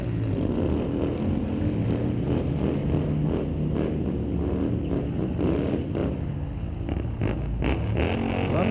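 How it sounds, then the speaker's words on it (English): Harley-Davidson motorcycles at a street-legal drag strip night, a loud sustained engine roar with rumbling revs and rising acceleration, steady and close with no talking. "Love the sound of those Harleys."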